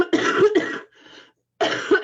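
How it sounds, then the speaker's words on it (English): Two loud, close coughs from one person, each a rough burst with a short pause between, followed after a brief gap by a third harsh cough. "Now I've got a cough."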